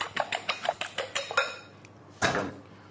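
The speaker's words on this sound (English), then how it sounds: "Whisk up your eggs." Eggs whisked in a bowl for an omelette: about nine quick, evenly spaced metallic clicks of the whisk against the sides, close and fairly quiet, then a pause and one louder clatter.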